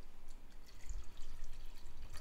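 Water pouring in a short, soft splash into a pot of chili, quiet and close, with faint dripping and no talk.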